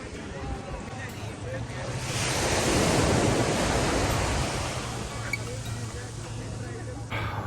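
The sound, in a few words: waves on a beach, Jurere Beach, Brazil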